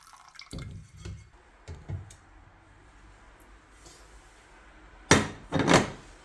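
Water is drained off a pot of cooked stuffed grape leaves, with a few soft drips and clanks early on, then two loud splashing pours close by near the end.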